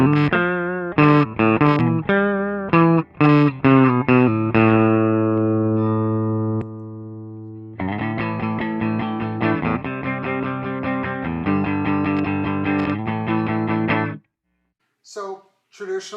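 Electric guitar played through an amplifier with a booster pedal engaged for a soloing sound: sharp rhythmic chord stabs, then a sustained ringing chord and further chopped strumming, loud and distorted, ending in brief faint fragments.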